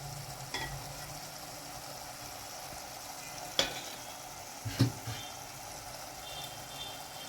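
Curry being stirred in a pan on a gas stove, with a steady low sizzle throughout and a few sharp utensil scrapes and knocks against the pan near the middle.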